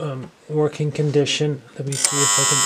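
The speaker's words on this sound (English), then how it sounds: "That's the alarm for you." Someone talks briefly, then a refurbished white Copal Model 229 flip alarm clock bursts into a loud, steady ringing buzz that continues to the end.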